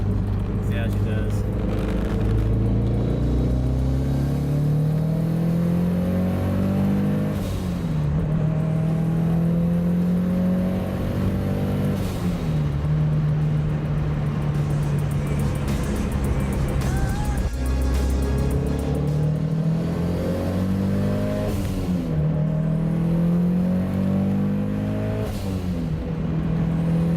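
A Mitsubishi Evo 9 on a road test drive after a fuel line upgrade, its engine droning steadily with repeated rising pulls as it accelerates through gears, a voice talking over it at times.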